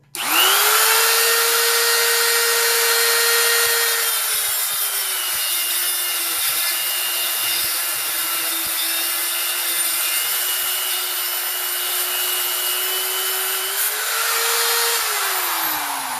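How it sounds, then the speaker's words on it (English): High-power rotary tool cutting through 3/4 inch steel chain, a loud continuous whine that drops in pitch under load and rises again near the end, with gritty grinding texture throughout and no voices. "you'll be able to see what some truly high-power rotary tools do when you're trying to cut through grade 3/4 inch chain"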